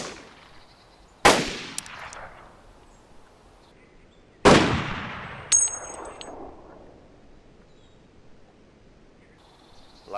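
Sniper rifle shots in the video game DayZ: two sharp, loud reports several seconds apart, each trailing a long echoing decay, with a faint metallic ding after each shot against near silence.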